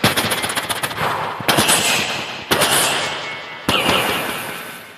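A stage mimic performs rapid machine-gun bursts and heavy bomb-blast booms by voice, four loud crashing explosions with rattling fire between them, close and alone.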